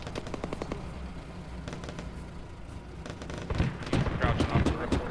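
Rapid automatic gunfire from a military shooter game, ShackTac Arma, crackles in dense bursts throughout, growing louder and heavier toward the end, with sporadic radio chatter mixed in.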